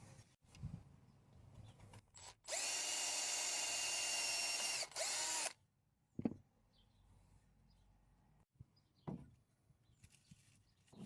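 A metal drill bit bores into the steel bodywork of a Renault Master van for about three seconds, a steady high-pitched whine with a grinding edge, framed by scattered clicks and handling noises and near-silence.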